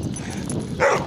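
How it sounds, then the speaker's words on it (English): A hoarse neighborhood dog gives a single short, raspy bark near the end, following a stretch of low background rumble with no clear talking. "there's this dog in my neighborhood that sounds like he lost his voice, and he's barking at me"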